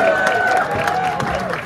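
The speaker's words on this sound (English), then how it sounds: "give a big round of applause for Mike Jack" Audience at a world record attempt at eating ghost peppers applauding and cheering for Mike Jack, a loud, dense burst of clapping mixed with crowd voices and a few shouts, continuous throughout.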